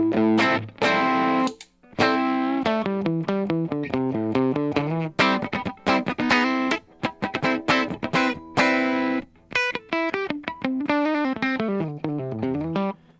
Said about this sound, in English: let's just turn the glue up and see what it sounds like